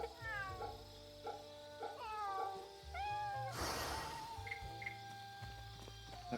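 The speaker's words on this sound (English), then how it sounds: "Oh, it's a cat." A cat in the video game Fate/Samurai Remnant meows several times in a row, clear and close, each cry rising and falling, over soft game music with a brief rustling burst midway.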